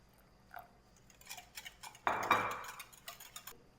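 Crepe batter with vanilla and salt being whisked in a bowl, a quiet, close clatter and scrape of utensil against the dish that swells into a louder rapid burst.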